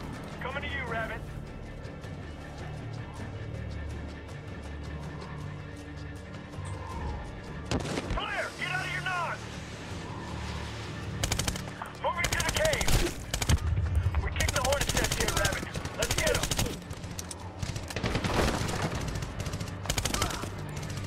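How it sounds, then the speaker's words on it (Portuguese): Gunfire and bursts of automatic fire in the video game Medal of Honor 2010, loud and sustained through the second half amid in-game noise, with someone talking over parts of it. "Não vi de onde eu tava tomando tiro"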